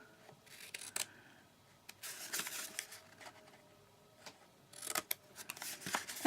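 Scissors snip through card along score lines for a craft project in short bursts of crisp cutting, close and fairly quiet, with pauses between strokes and no talking.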